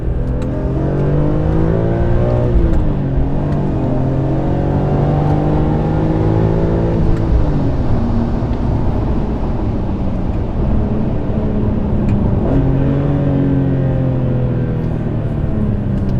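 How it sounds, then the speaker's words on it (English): A BMW E46 M3 with the S54 B32 inline-six revs hard through several gear pulls, the engine note climbing, dropping at each shift and climbing again, loud and steady with no talking. "a pull without road noise. This is such a cool engine, you guys. The S54 B32"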